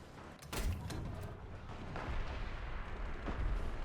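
Video-game gunfire rings out as several sharp, booming shots over a rumbling battlefield background in a multiplayer shooter, with the bursts spaced irregularly across the stretch.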